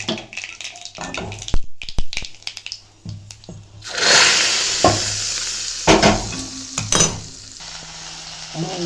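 Okra tipped into a hot pan and sautéed, with a loud burst of sizzling frying and scraping stirring strokes, close and continuous after a few sharp knocks.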